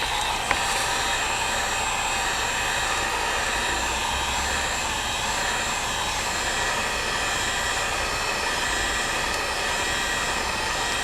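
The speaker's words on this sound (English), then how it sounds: "So I'm using a heat gun." A heat gun blows a constant, loud, even roar while warming the screen adhesive on an iPad 7 A2197, unbroken for the whole stretch with no voices.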